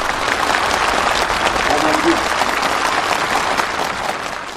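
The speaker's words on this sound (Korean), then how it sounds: "모임에서는 축하 연설에 이어서 살림집 리용 호각증이 참가자들의 열렬한 박수 속에 전달됐습니다." Enthusiastic applause from participants at a housewarming ceremony in a farm village, a thick, sustained roar of many people clapping, loud and even from start to finish, alone without voices.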